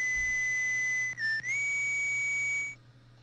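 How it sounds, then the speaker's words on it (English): Video game whistle melody from Mega Man 5 in the ProtoMan stage, sounding as a pure electronic tone with a brief dip and slide in pitch midway, held steady for nearly three seconds and then cutting off, with no talking. "it sounded like ProtoMan's whistle was slightly off there"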